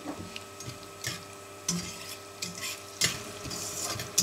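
Cashews frying in a pan over a medium flame for vegetable upma, a South Indian breakfast, with soft sizzling and occasional stirring and clinks from a spoon against the pan at close range.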